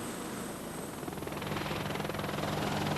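RAH-66 Comanche, a five-bladed attack helicopter, flying with a steady broadband rotor and turbine roar; a faint rhythmic blade beat grows slightly louder partway through.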